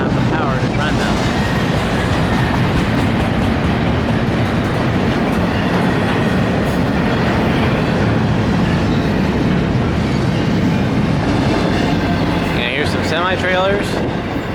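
A BNSF freight train hauling refrigerated cars with their own diesel units rolls past at Flagstaff, Arizona, a loud steady rumble and clatter of wheels with a brief squeal near the end.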